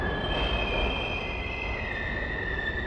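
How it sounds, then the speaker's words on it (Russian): A train in the PSOne video game Hellnight arrives and slows, its wheels squealing in long sustained high tones over a steady rumbling roar, with no speech. "Так, Рене спрыгнула с поезда"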